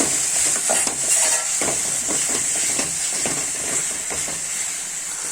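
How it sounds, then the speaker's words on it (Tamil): Onions and coriander are sautéed in a pan with a steady, bright hiss of sizzling oil and irregular soft scrapes of a spatula stirring, close and continuous. "இது கூட கொஞ்சம் கொத்தமல்லியும் சேர்த்து நல்லா வதக்கி விட்டுக்கோங்க"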